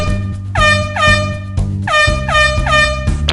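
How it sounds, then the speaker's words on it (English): Air horns blare in loud, rapid repeated blasts, a dense run of honks that fills the whole moment with no speech. "Here we have a question with air horns"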